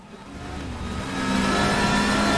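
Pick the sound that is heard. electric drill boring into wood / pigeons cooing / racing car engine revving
racing car engine revving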